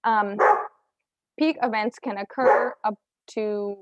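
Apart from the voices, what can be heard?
dog barking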